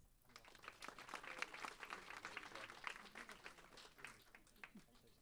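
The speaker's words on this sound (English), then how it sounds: "round of applause for them" Applause for students at a school board meeting: dense clapping from a seated crowd, steady and fairly loud for several seconds, with scattered voices underneath.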